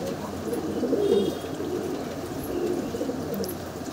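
Andhra breed pigeons kept at home give soft, low cooing that swells gently over quiet room background, with faint chirps in places.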